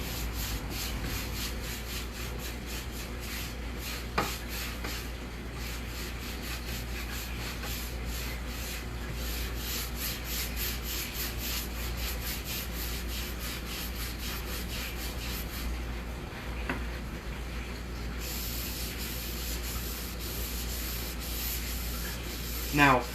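Annie Sloan wax being worked by hand over painted wood with a faux wood finish, giving a steady, continuous rubbing and scrubbing texture with rhythmic strokes, close up and fairly loud, with a couple of sharp knocks and no talking.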